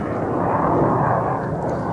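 A jet passes low over a golf course, a loud, sustained roar that fills the short stretch evenly, with no voices over it.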